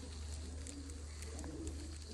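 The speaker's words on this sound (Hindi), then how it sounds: "राना साहब कबूतर तो हैं ये सारे अनमोल जी।" Soft, low cooing from pigeons repeats faintly over a steady background hum, with a few bird sounds in the distance.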